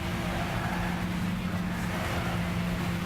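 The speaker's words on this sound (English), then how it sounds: "these electric cars barely make any sound at all" Gran Turismo 6 electric race car drives with a low steady hum and broad rushing road and wind noise, continuous and unchanging with no talking.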